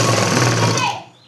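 Sewing machine stitching a garment waistband without a hem, a loud, rapid mechanical chatter running steadily for about a second before stopping abruptly.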